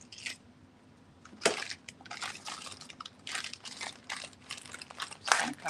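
Small rubber stamps poured out of a container at a work-shirt stamping session, a loose rattling, crinkling clatter in bursts of pieces tumbling and settling, close by, with no voices.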